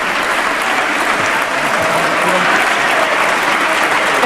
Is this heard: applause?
yes